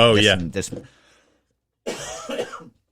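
A couple of close coughs and a throat-clearing burst, then a pause and another short rough cough, fairly loud and near.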